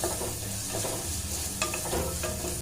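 A spoon scrapes and stirs a thick masala with ground spices in a sizzling pan for pressure-cooker sardines, soft repeated scraping strokes over a constant hiss.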